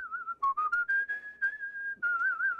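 Someone whistles a melodic tune up close, with short phrases, slides and brief pauses between notes.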